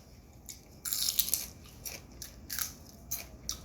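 Crunchy raw celery chewed close to the mic, with irregular crisp bites and snaps in short bursts over a quiet background.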